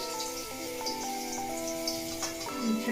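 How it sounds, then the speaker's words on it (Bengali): Bitter gourd pieces frying in hot oil as they are stirred, a quiet, steady crackling sizzle running under background music. "উচ্ছেটা নেড়ে চেড়ে ভেজে দিতে হবে সব পাশটা ভালো করে।"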